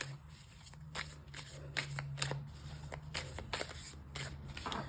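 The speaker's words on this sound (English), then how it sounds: "it does a pretty good shuffle. Shuffles this way as well." Tarot cards being shuffled close up, a series of quick riffling bursts of crisp paper flutter repeating steadily with brief pauses between.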